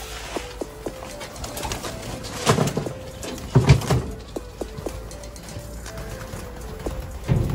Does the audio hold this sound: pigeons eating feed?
yes